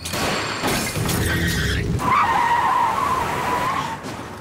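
Glass shatters after gunfire in a tense police drama scene, a loud crash and burst of noise followed by a sustained bright ringing scatter of falling shards.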